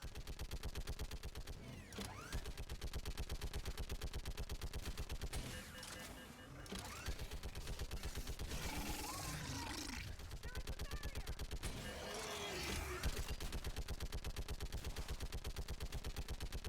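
Sustained automatic gunfire in a Mass Effect 3 battle, with rapid rhythmic bursts running nearly the whole time, louder clusters of fire and explosions breaking through, and shouted voices mixed in.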